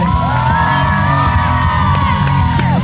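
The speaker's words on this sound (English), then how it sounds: "Let's give it up for our world-class ramp rider, Matthew Olson." Crowd cheering, whooping and yelling loudly and continuously at a BMX stunt demo at the State Fair of Texas, with a steady, dense roar of voices throughout.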